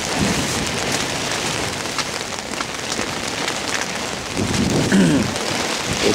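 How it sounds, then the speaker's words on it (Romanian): Steady rain falls at a fishing pond during a carp fishing trip, a dense continuous patter with a slight swell of heavier drops near the end, no voices present. "O ploaie din asta."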